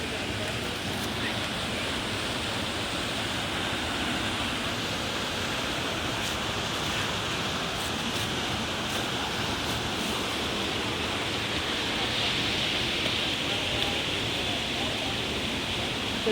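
A waterfall in a forest park in November roars in a steady, dense rush of falling water that fills the scene continuously at close range, with no voices breaking through.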